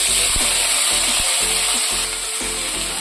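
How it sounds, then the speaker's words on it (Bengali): Washed mung dal with two dry red chillies and a bay leaf is stirred in a hot pan: a loud, continuous frying hiss broken by regular scraping strokes of the spoon, heard up close. "ভালো করে নাড়াচাড়া করে নেব"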